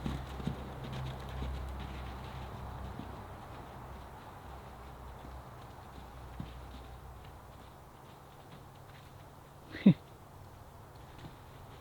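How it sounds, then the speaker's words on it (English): A horse named Gracie trots loosely in an outdoor arena, its faint hoof clip-clops running steadily under ambient noise and voices, with one sharp louder thud near the end. "Nice little lofty trot up to Peggy."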